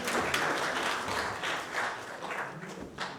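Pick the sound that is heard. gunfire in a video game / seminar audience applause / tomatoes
seminar audience applause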